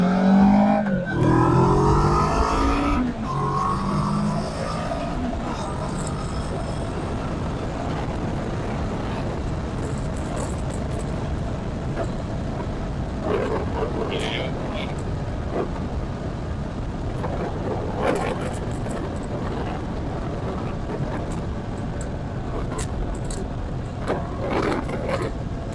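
A car engine winds up hard on an acceleration pull, a loud rising rev at the start easing into a sustained steady drone and road roar that fills the rest of the stretch, close and continuous.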